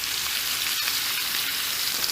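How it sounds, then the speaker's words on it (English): Steak sizzles loudly and steadily in a hot cast iron pan, a dense crackling hiss with a few sharp pops. "I love that sound of the sizzle."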